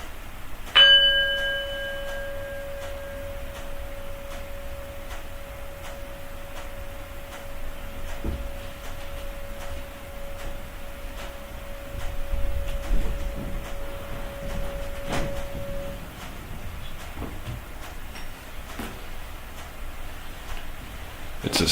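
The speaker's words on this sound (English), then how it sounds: "It's a singing bell, so you can take the mallet around the edge and keep the resonance." A singing bell struck with a mallet: a sharp metallic strike near the start, then one clear, steady tone that rings on alone for about fifteen seconds before cutting off, with faint clicks and low rumble in the background.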